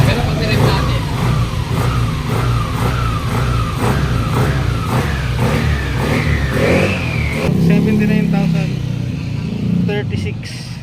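A refreshed engine revs up close by, its pitch climbing steadily for several seconds before dropping back to a rough idle, with a steady mechanical drone throughout.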